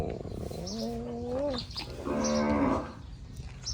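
A water buffalo lows twice, close by. The first call is a rising, wavering moan and the second is longer and louder, with quiet ambience between.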